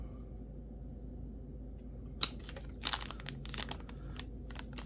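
Paper warranty card handled while unboxing a Nitecore P23i flashlight: a sharp crinkle, then several soft crumpling, rustling bursts close by over a quiet room.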